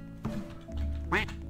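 Cartoon-style duck quacks from the Roblox game Lumber Tycoon 2, one short quack early and a louder, clearer one near the end, over low game background noise with a brief voice nearby.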